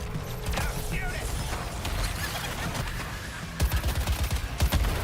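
Cannon fire in a Batman video game against the Joker, heard as a run of heavy booming blasts with mechanical clatter, loudest in a rapid burst of repeated shots near the end.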